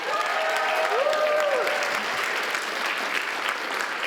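An audience at a Verizon Take Your Child to Work Day event claps steadily throughout, a dense wash of applause with a few faint whoops rising above it.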